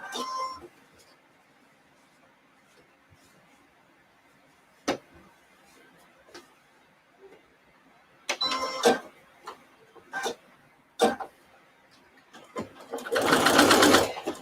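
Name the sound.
sewing machine stitching the last edge of a placemat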